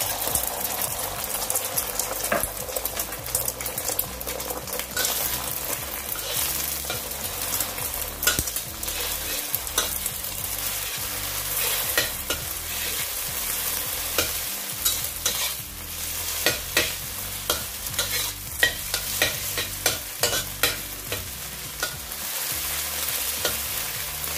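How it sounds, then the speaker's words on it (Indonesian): Beaten eggs frying in a pan for an omelette while being stirred, giving a steady close sizzle with frequent scraping and clicking strokes throughout. "kita bikin orek dulu dadarnya ya telurnya kita dadar dulu"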